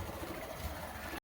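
A motorbike engine runs at a steady, fairly close drone for just over a second on a ride between village houses, then cuts off abruptly; no one speaks.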